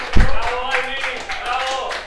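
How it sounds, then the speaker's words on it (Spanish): An audience claps for the champion of a Super Smash Bros. 64 tournament, TNT 2021 in Lima, a short burst of applause under a loud announcer's voice. "un aplauso para el campeón"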